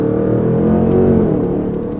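A modified car pulls hard in second gear, its engine note climbing in a smooth, loud rising drone heard from inside the cabin, then easing slightly at the end, with no talking.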